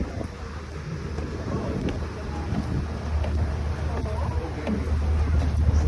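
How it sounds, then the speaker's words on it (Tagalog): Steady wind roar with low engine rumble on the open top deck of a ship at sea, continuous and fairly loud throughout. "Sarap ng hangin ha."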